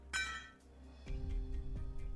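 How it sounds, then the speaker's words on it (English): Metal artillery shell casings from the video game Arknights clink and rattle onto the ground, a few bright, sharp impacts over a low rumbling game ambience. "That's the sound of artillery shells casings falling on the ground."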